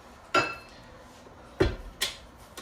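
Homemade shortbread dough is mixed in a bowl, heard as three separate knocks and clinks of a utensil against the bowl, close and fairly sharp, with quiet between them and no speech.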